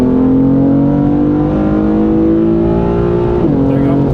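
A BMW M4 coupé in its aggressive shift mode accelerates hard after a two-gear downshift, its engine droning loud and rising steadily in pitch inside the cabin before a brief dip at an upshift, then climbing again.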